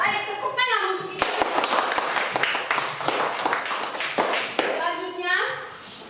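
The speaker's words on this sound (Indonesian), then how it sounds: "Ayo tepuk tangan untuk itu." A group of schoolchildren claps hands together in a classroom, a burst of dense applause lasting several seconds, with a voice speaking before and after it.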